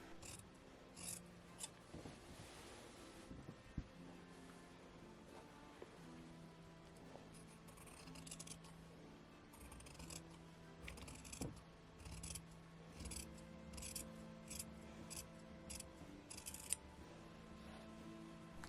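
Scissors snipping along a pulled thread in linen fabric for Tudor-style underwear, with soft repeated crisp cuts and rustling cloth, close and quiet, with no talking.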